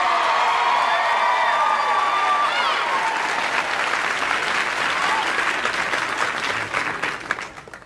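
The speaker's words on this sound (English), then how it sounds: "that outburst of applause" A game show studio audience bursts into loud applause with cheers and whoops, the clapping sustained for several seconds and then tapering off toward the end.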